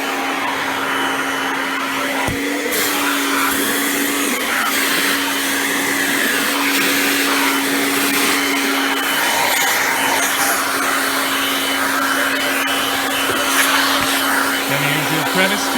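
Kirby G6 2001 Limited Edition upright vacuum cleaner running with its upholstery tool, a loud, close, continuous motor roar with a steady whine that holds for about sixteen seconds, with slight shifts in airflow.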